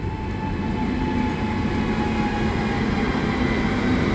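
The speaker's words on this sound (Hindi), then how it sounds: "वेब 7 लोकोमोटिव जो आ रहा है यही लोको इसमें लगाया जाएगा बरौनी अहमदाबाद में" A WAP-7 electric locomotive arrives at a station on the Barauni–Ahmedabad route, a loud continuous rumble with humming motor tones and a steady rolling roar close by, with no voices.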